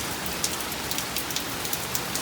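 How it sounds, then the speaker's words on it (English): Heavy rain from Hurricane Beryl falls nonstop outdoors, a dense steady hiss of drops striking surfaces with occasional louder individual splats, loud and continuous with no voices. "it started raining like this. And it has rained ever since,"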